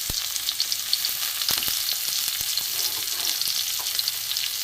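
Chopped onion and garlic frying in oil in a karahi for fish curry: a bright, steady sizzle with scattered sharp pops and crackles, close up and free of speech.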